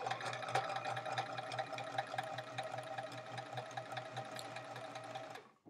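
Sewing machine stitching quilt pieces for a chevron quilt, a steady rapid mechanical whirring and clatter, close and fairly quiet, running continuously before stopping at the end.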